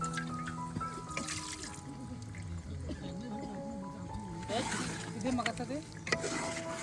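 Water poured into a pot of chicken cooking outdoors in a forest, a trickling, splashing pour running for several seconds under background voices, growing louder toward the end.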